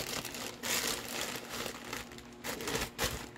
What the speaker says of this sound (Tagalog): let's open up another parcel.